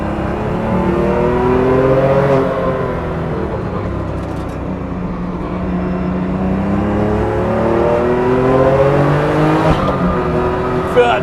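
A tuned 510bhp BMW M2 Competition pulls hard around a race track, its engine droning loud and close from inside the cabin with rising and falling revs through the gears. Occupants talk briefly over it.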